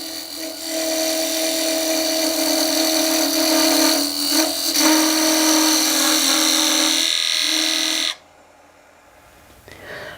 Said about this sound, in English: I'm going to use a parting tool for this task.